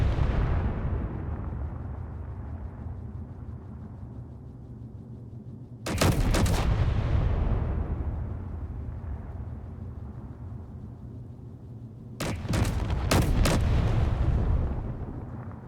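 Gunfire in the vehicle-combat game RVs at War, with two separate bursts of loud, closely spaced shots, each followed by a long fading rumble and echo.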